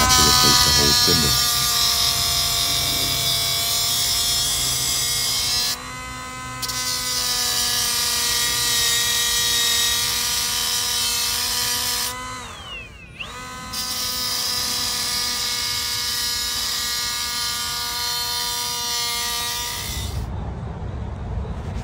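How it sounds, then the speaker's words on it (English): A high-pitched whining power tool grinds at a stuck piece on a spindle, running steadily in long stretches with brief stops and restarts, loud and close. "I'm going to try to cut it and see if I can get it off"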